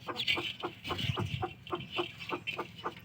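A hen clucking close by in a rhythmic series of short, regular calls, about a dozen clucks over a few seconds with faint background noise.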